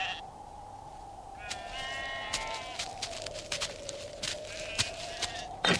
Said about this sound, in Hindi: तुम जाओ, अपनी भेड़ चराओ।